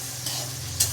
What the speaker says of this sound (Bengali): মুগ ডাল ভাজছি।